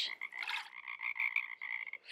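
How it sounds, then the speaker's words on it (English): A frog croaks in a quick, rhythmic series of raspy pulses, close and clear with no other sounds. "Frog."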